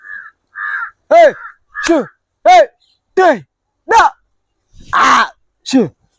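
A crow caws repeatedly, about eight loud harsh calls spaced roughly half a second apart, close by and clear against a quiet background.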